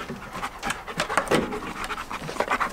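A dog pants rapidly and steadily close by, quick rhythmic breaths continuing throughout with no talking.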